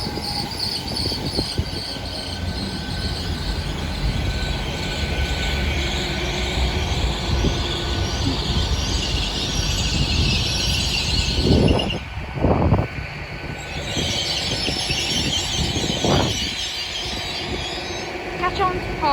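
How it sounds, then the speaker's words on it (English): A Great Western Railway service from Swansea to London Paddington pulls into Bridgend station, rumbling steadily with loud wheel squeal and clattering carriages, while a station announcement plays over it. "arriving in now is the major delayed 1456 the Western Railway service from Swansea"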